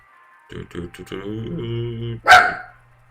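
A pet dog barks in a house several times in short, irregular bursts, then lets out one louder, sharper bark near the end. Talk runs through parts of the clip.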